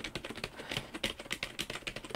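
Soft, quick keystrokes on a Klim Chroma wireless keyboard clatter in an irregular rhythm, close by and fairly quiet, with no voices.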